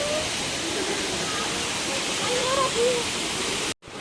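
Constant roaring rush of a hidden waterfall in Cireunghas, Sukabumi, heard close with wind buffeting the microphone and a faint voice, ending in a sudden brief cut.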